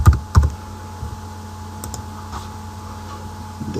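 Typing a password on a computer keyboard during a MySQL install: a few quick key clicks near the start, then a quiet, steady hum with faint ticks.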